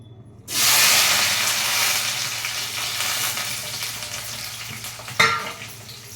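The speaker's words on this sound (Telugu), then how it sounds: "మనం ఆయిల్ ఆల్రెడీ వేసుకున్నాం కదా ఇదిగోండి కరివేపాకు ఉల్లిపాయలు పచ్చిమిరపకాయలు టమాటా" Curry leaves, onions, green chillies and a little tomato hit hot oil in a pan for a pea curry, bursting into a loud sudden sizzle that settles into steady frying, with one sharp clatter near the end.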